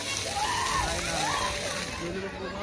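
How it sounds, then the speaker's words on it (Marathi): Water splashing and sloshing at a park water play area in Thane, a steady wet spatter running throughout, close and fairly loud, with faint voices under it. "झेला आता येईल पाणी."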